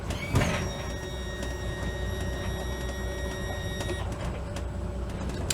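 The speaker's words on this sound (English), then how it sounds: "I can put the motor back down." A Ranger Tug boat's outboard motor tilts back down, heard as a steady electric trim motor whine with tonal hum, starting with a clunk and running about four seconds before easing off, close by over a low engine drone.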